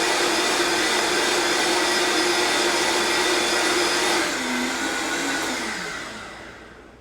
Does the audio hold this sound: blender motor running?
yes